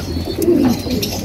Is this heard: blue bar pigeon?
yes